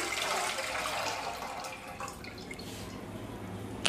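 Water poured into a pot on a gas stove while making a herbal kadha, a steady close splashing and rushing stream running throughout with no speech.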